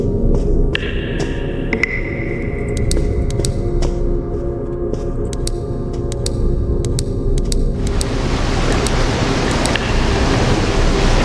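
Steady rain hiss rises sharply into a dense wash partway through, heard inside a Freddy horror video game, with a low droning hum and scattered high clicks beneath, no talking.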